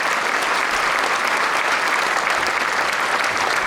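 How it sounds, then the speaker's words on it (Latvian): Dense, steady applause from an audience at a wind orchestra festival, a loud continuous patter of many hands clapping throughout with no break. "Paldies un aplausu Spuriņkungam."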